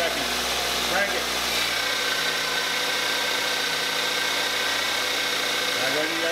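A Toyota Matrix engine idles steadily while its power steering is bled after a pump replacement, giving a continuous mid-pitched hum, with a brief rising whine near the end as the steering is turned.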